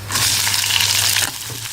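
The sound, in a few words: onions frying and sizzling in a pan for wheat dosa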